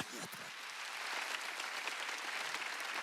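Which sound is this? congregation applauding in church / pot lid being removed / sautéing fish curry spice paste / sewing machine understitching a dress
congregation applauding in church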